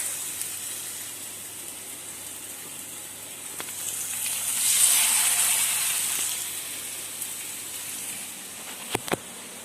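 Seasoned chicken grilling with a little olive oil in a pan gives off a steady soft sizzle that swells briefly in the middle, with a couple of sharp clicks near the end and no talk.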